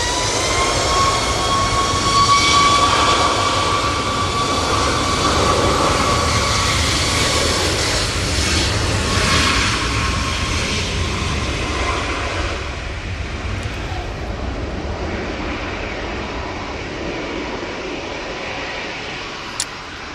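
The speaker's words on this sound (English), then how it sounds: "that Ryanair is off to Alicante, and I hope it rotates any second now" A Ryanair jet bound for Alicante runs up for takeoff at Manchester Airport in stormy weather, a loud, close engine roar with a whining tone that slowly fades and thins over twenty seconds, no one speaking.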